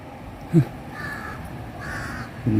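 Crows caw outdoors, a single call followed by another a couple of seconds later, over a faint background hum.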